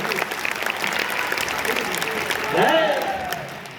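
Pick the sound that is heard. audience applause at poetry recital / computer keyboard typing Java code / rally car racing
audience applause at poetry recital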